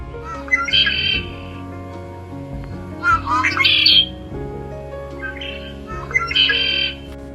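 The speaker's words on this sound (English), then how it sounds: "Red Winged Blackbird is often found by marshes and wetlands." Red-winged blackbird calls near a marsh or wetland, several bright trilling bursts repeating every couple of seconds over a steady low background hum.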